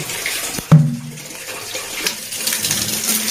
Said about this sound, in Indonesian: Yang pertama, kita menggunakan galon ini yang tadi sudah diisi air. Nah, ini saya isi airnya dulu.